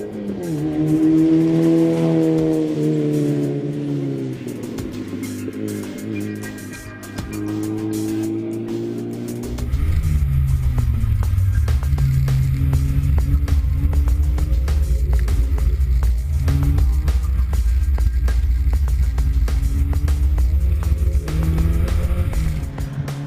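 A Mazda MX5 Miata race car on track, its engine droning and revving loudly through gear changes as it slides through corners, with a sustained heavy rumble and faint tire noise.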